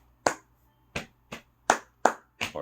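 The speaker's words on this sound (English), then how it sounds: "pat, pat, clap, clap" Six sharp body-percussion hits from patting the legs and clapping the hands follow an uneven rhythm, nearby and alone with no talk. The last two hits come close together.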